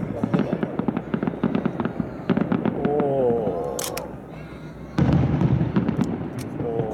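Fireworks at the Kita Ward fireworks festival crackle and pop in rapid bursts, with a whistling rise midway and a fresh loud barrage near the end, heard from the crowd with voices murmuring.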